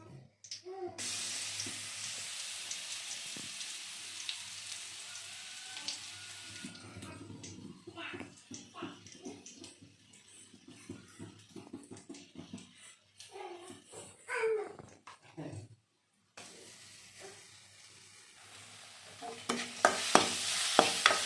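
Ground pepper and cumin sizzling and frying in a hot pan, with stirring and scraping clatters, a steady hiss throughout and a brief pause near the end.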